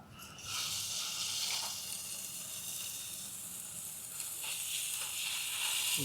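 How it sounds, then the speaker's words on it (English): Steady hissing sizzle of steaks frying in a hot pan on an Ozark Trail camping stove, close and continuous with slight surges in intensity. "Here we're getting the steaks ready to put on the pan."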